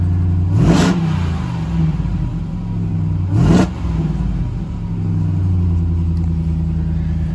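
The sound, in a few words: 2022 Ram 1500 TRX engine starting and revving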